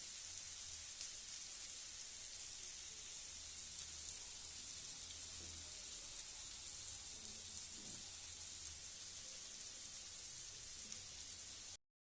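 Fish sizzles and fries steadily on a hot tawa, without deep frying, in a bright, even hiss that continues for about twelve seconds and then cuts off abruptly; no one speaks.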